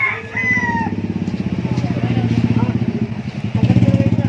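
A rooster crows near the start over a loud rattling motor running close by; a voice talks briefly alongside.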